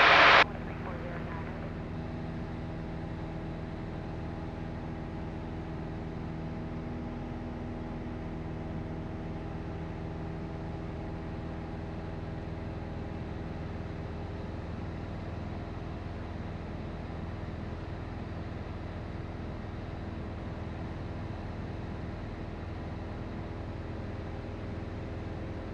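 A Piper Archer single-engine small plane at cruise altitude with the power pulled back, its engine a steady, loud cabin drone with a constant tonal hum, after a brief click at the start.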